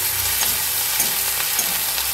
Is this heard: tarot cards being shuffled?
no